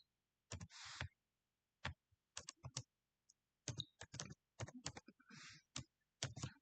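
Quiet, close keys clacking on a computer keyboard as a channel name is typed, irregular clusters of taps separated by short pauses, with no talking.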